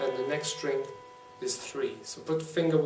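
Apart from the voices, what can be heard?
No everyday noises stand out.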